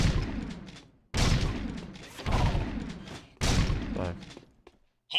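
Scattergun blasts at targets on a video game shooting course, heard as three loud, booming bursts with long decaying tails, each about a second apart, followed by a brief gap and a short final thump.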